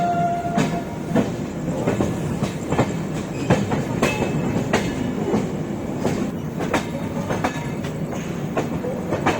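Gondwana Express passenger train running on rails after a ghat section, with a steady rhythmic clickety-clack of wheels over rail joints and continuous rumbling carriage noise heard from inside, loud and close, with no talk.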